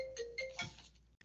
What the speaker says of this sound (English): My apologies for my phone ring